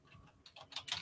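Someone pounds on a computer keyboard, a quick run of clacking keystrokes that starts faint and grows louder and denser within about a second, heard at a slight distance.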